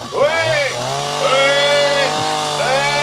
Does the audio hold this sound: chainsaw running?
yes